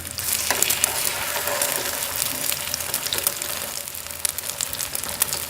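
Aloo tikki potato patties shallow-frying in a pan give off a steady, close sizzle with crackling pops throughout, no talking.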